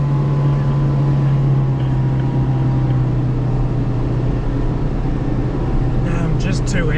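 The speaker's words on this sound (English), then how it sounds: "Get some wheel spin, try and get some traction." A heavy 4WD vehicle's engine drones steadily as its wheels spin in deep soft sand at Byfield National Park, struggling for traction; the loud, constant roar continues with brief higher sounds near the end.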